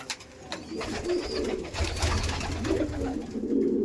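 Kalanka pigeons, including a baby and an aggressive female, coo in a loft. The low, rolling calls repeat close by over background rustling.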